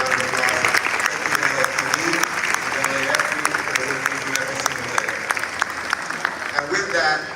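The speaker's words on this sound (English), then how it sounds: "Let's give them a round of applause." Sustained audience applause at a Los Angeles Clippers facilities dedication event, dense clapping throughout with crowd murmur and some voices underneath.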